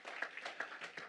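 A church congregation applauding at a Sunday service, a brief, faint patter of hand claps in a steady rapid rhythm, distant and soft in the room.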